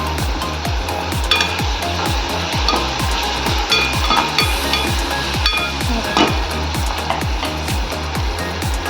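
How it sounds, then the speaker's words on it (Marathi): Chopped onion fries in a hot pan as the base for a fish gravy, a constant sizzle broken by a steady rhythm of scraping strokes as a spatula stirs it, loud and close. "हा बघा आपला कांदा मस्त फ्राय होतोय."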